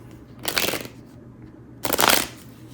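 Tarot cards are shuffled by hand in two short, crisp riffling bursts separated by a pause, close and clear with no talking.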